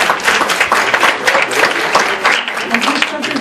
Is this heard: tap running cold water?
no